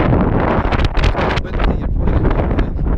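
Strong wind gusting across an open campsite in Applecross on a cold May day, a loud continuous roar with buffeting surges striking the microphone throughout.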